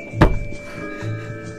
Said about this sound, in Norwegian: Nei, ikke dunk i bordet.